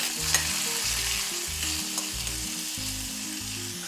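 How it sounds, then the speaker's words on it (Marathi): Grated cucumber sautéing in ghee with cumin and chillies gives a steady, close sizzle with stirring scrapes running throughout, no voices. "काकडीचा किस एक मिनिटभर आपण परतून घेणार आहोत"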